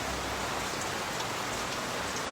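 Steady rain pours down on potted plants set outside, a dense hiss of drops hitting surfaces nearby, continuous and moderately loud.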